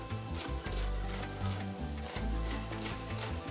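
Parsley, carrots and chopped young onions sauté in a pan, giving a soft, continuous sizzle with faint scraping and stirring throughout, fairly quiet and without voices.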